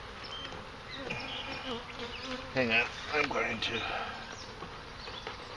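Bees buzz around an open beehive, a faint, steady hum with louder passes of individual insects close by, heard under people talking quietly.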